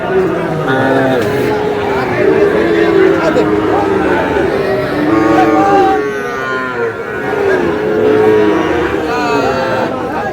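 Sahiwal cattle at a crowded livestock market in Cumilla, lowing repeatedly amid a steady babble of people talking nearby, loud and continuous throughout.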